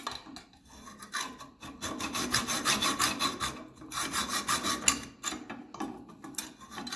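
A hacksaw cuts a metal part during restoration of a 1954 Ferguson TEF diesel tractor, giving rhythmic rasping strokes in quick bursts with short pauses between them. It sounds close and moderately loud, with no talking.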